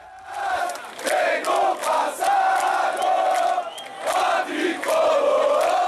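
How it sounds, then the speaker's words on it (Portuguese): São Paulo supporters packing Morumbi stadium roar and chant in a massive, continuous wall of crowd noise, surging in waves of rhythmic shouting and singing that stay loud throughout. "A torcida São Paulina chegou ao Morumbi determinada a apoiar o time."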